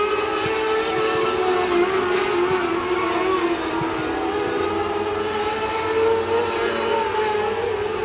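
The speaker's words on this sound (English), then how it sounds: "for Jesse Isidore as he slings his machine through turns 1 and 2 for the final time tonight" Sharp mini late model race cars roar around a dirt oval at McKean County Raceway, a continuous loud engine drone that rises and falls slightly as the field runs through the turns, with no voices.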